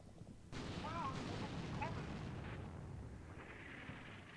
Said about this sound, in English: that artillery's not going to be super helpful. That is way off target.